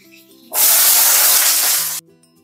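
Cut papaya and potato pieces hit hot oil with cumin and green chilli in a pan, setting off a loud burst of sizzling that holds steady for about a second and a half, then cuts off abruptly.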